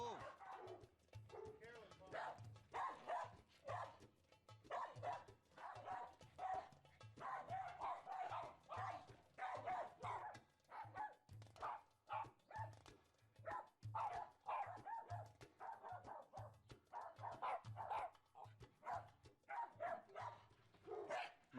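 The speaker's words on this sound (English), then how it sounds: "The dog is already barking." A dog barks repeatedly in sharp bursts during a tense encounter with an insecure, aggressive dog, close and loud, with people talking over and between the barks.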